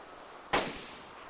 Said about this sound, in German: Das war doch eine Double Rifle. Ja, das ist ein anderer Schuss gewesen.